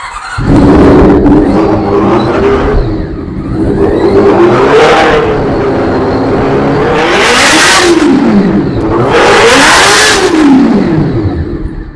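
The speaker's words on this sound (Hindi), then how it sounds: "जो 4 सिलेंडर वाली बाइक होती है बेसिकली उसका साउंड ज्यादा हैवी होता है" A four-cylinder sports bike engine in Karachi revving hard, repeated rising and falling throttle blips from idle to high-pitched wails, loud and close.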